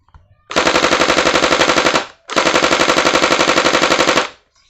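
An HK416 W12 water gel blaster toy fires on full auto in two sustained bursts, a rapid buzzing rattle of shots about one and a half seconds and two seconds long, separated by a short pause, loud and close.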